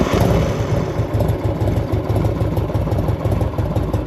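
A 1984 Harley Davidson FLT Tour Glide engine idles up close, a loud, steady low thumping rhythm that pulses evenly throughout, with no talking.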